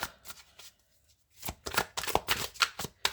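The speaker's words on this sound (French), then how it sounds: "Je vais retirer des cartes pour vous." Tarot cards are shuffled and drawn in a quiet room: soft riffling bursts at first, a short pause, then a denser run of quick papery flicks and slaps, close and clear, with no talking.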